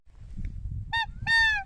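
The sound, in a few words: flocks of geese honking in flight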